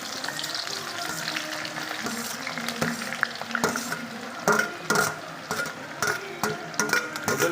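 Onions fry in hot oil with cinnamon, cloves and cardamom for an Assamese duck curry, a steady close sizzle broken by repeated stirring scrapes and clinks of a utensil against the pan.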